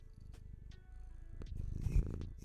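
A house cat purrs softly close to a microphone indoors, a low steady rumble that swells slightly near the end, with no talking.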